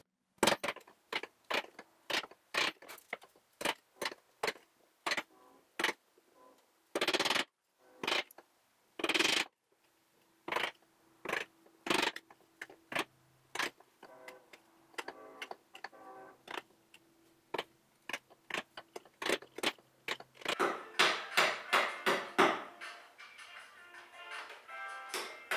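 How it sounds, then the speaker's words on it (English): Steel chisel struck with a mallet while chopping mortises in white oak for joinery, a long run of sharp, closely spaced knocks in steady rhythm, close and loud, with a denser scraping and paring passage near the end. "I'm gonna chisel to the baselines here"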